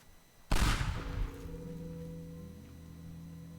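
Pipe bomb going off in the video game Teardown: a single sharp, loud blast that rolls into a rumbling, ringing decay with lingering tonal hum afterward, no talking.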